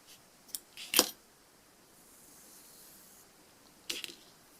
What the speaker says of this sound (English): cut thread off